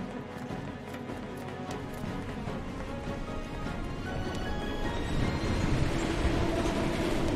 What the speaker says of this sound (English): Ooh, that train's giving me a heart attack.